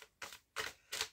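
Tarot cards are cut by hand as a deck is split, giving three separate crisp papery riffling swishes, each about a quarter-second long with brief pauses between, close and fairly quiet.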